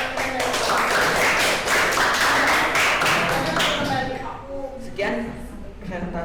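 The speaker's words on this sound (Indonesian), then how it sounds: "Silakan tepuk tangan." Audience clapping at the close of a classroom presentation, scattered hand claps that fade after about four seconds as talk and voices take over near the end.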